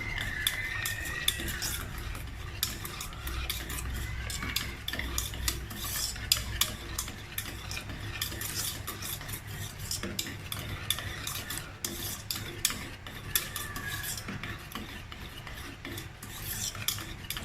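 Continuous scraping and swishing of a spoon stirring coconut milk into boiling agar-agar in a pot, steady and close, with no talking.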